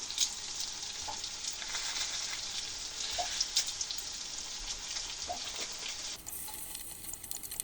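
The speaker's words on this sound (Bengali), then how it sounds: "এখন দিয়ে দেবো একটা তেজপাতা আর একটু কাঁচা পাঁচ পাঁচফোড়ন অল্প সামান্য দিয়ে এই তেলের মধ্যে ভুনে নিলেই তৈরি হয়ে যাবে" Bay leaf and a little panch phoron frying in hot oil for an olive chutney, giving a steady close sizzle with faint crackles, alone and without speech; the hiss drops slightly near the end.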